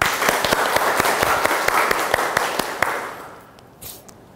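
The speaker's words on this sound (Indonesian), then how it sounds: "tepuk tangan." A small class claps in a rhythmic, evenly spaced burst in a classroom, the claps close and distinct before thinning out and fading.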